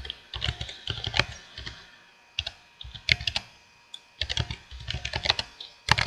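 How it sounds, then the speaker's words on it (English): A computer keyboard clatters close by in uneven bursts of rapid typing with short pauses between clusters of keystrokes. "it takes a little to type"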